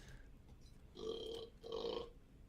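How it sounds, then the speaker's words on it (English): Two short, low burps sound off to the side of a microphone, fairly quiet, with a brief pause between them. "burps to the side of the mic"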